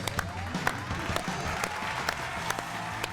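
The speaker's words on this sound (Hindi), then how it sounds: "आपकी तालियों में तशरीफ लाते हैं रेहान शेख।" A studio audience applauds to welcome a guest onto a television talk show, a steady patter of many hands clapping at moderate distance, fairly soft and without speech.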